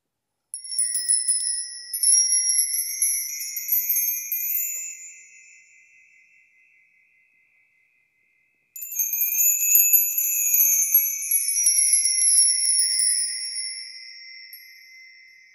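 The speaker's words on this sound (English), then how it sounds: "these chimes are unique in as much as the whole wind chime takes up a very narrow range in pitch" A finely tuned Stannard Percussion wind chime rings in two bright shimmering passes, each fading out, with near silence between; close, clear and alone with no voices.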